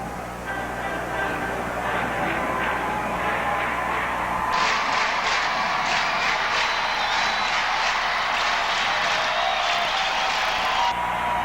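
Crowd at a Pittsburgh Pirates baseball game against the Phillies, a broad, steady roar of a large stadium audience swelling and holding for several seconds under a busy background wash.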